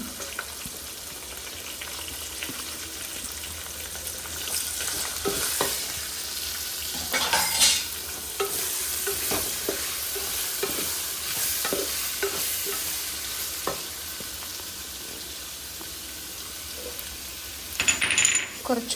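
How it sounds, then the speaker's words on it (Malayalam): Chopped onions and curry leaves fry in a hot pan for a spicy chicken curry, giving a steady close sizzle with scattered scraping stir strokes and a louder clatter near the end; nobody speaks. "നമുക്ക് ഇതിലേക്ക് സവോള നമ്മൾ അരിഞ്ഞു വെച്ചിരിക്കുന്ന സവോളയാണ്"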